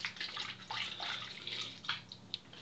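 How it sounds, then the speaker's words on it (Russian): Tap water runs into a bathtub in a steady, soft splashing stream with small bright drips and gurgles, fairly quiet and heard without any talking. "Так, может, включи кран?"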